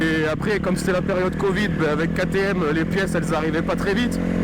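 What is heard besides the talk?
No everyday noise stands out behind the speech.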